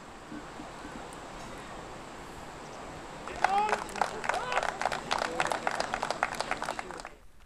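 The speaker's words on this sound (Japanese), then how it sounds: "台の上に鍋太郎が設置されると歓声や拍手が起こりました" A crowd at Japan's biggest imoni festival erupts in cheers and clapping as the third-generation giant 6.5-metre pot Nabetaro is lowered by crane onto its stand; quiet ambience gives way midway to sustained scattered applause.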